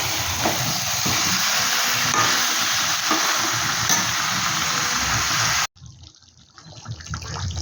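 Fennel chicken cooking in a covered pan, a steady loud hiss of sizzling that cuts off abruptly near the end, leaving a quieter, rising bubbling simmer.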